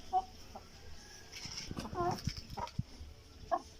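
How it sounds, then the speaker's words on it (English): Chickens cluck in short bursts at close range, a few separate calls spread across the moment, with a person talking quietly in the background. "We also have the 2 chickens over here"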